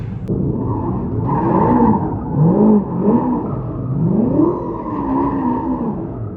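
Cars warming their tyres at a Ken Block gymkhana JDM car meet, with sustained engine revving and wavering tyre squeals that rise and fall, loud and steady at moderate distance.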